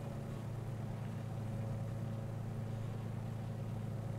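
Twin radial engines of a Beech 18 in Microsoft Flight Simulator 2020 drone steadily at reduced power, a low, even hum with a constant tonal throb, fairly quiet and unbroken.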